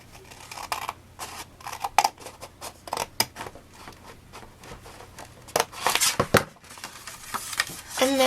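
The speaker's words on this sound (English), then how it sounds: "I'm actually going to leave it just cutting along there" Scissors cut through paper while a mini album pocket is crafted, giving irregular close snips and crisp rustling crunches, some sharper and louder, over a faint low hum.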